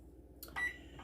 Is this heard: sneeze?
no